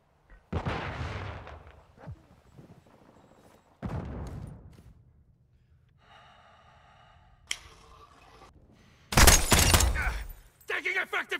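Gunfire in Call of Duty: Modern Warfare II, with a few loud bursts spread across the stretch, the heaviest a dense volley near the end, broken by quieter gaps and some shouted voices.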